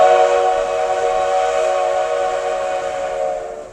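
A steam train whistle sounds loud and close, one long sustained chord-like blast that holds steady for several seconds before cutting off.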